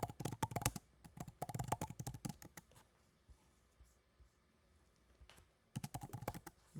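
Typing on a computer keyboard, with quick bursts of clattering keystrokes, a quiet pause in the middle and a few isolated clicks, then another fast burst at the end, heard close up.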